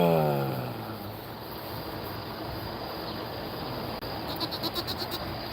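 Baby goats give a short, wavering bleat at the start and a quick pulsing bleat near the end, close and fairly loud over a steady background hiss.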